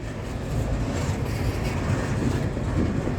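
Australian steel train hauled by an unusual lash-up of three locomotives, heard as a steady, loud rumble of rolling wagons with a low heavy drone throughout, no voices.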